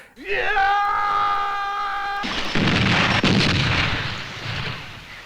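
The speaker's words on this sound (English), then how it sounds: "Omega 1 explodes in an explosion that is nowhere near as cool as the Predator" A large explosion from the 1988 action film Robowar bursts in after a rising whine, a loud sustained blast with rumbling debris and a second jolt, under brief voices.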